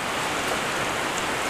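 Steady rain falls at Table Rock Lake, a soft, even hiss of drops on water and surfaces that holds constant, close and uniform throughout with no voices or other sounds.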